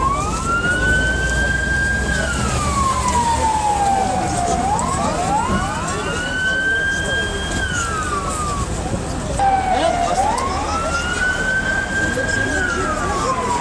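An ambulance siren wails at the scene of an overturned shuttle bus crash in Istanbul, its loud rising and falling sweeps repeating steadily over a constant background roar.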